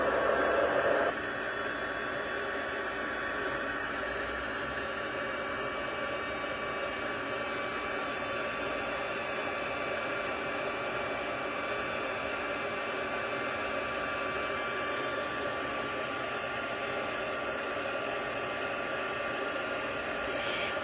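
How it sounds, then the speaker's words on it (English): Handheld embossing heat tool blowing hot air over a card for emboss resist, a steady loud hairdryer-like whoosh starting abruptly after a short louder burst and running unbroken, with no speech. "Now I'm going to bring in my heat tool. This could get a little noisy for you."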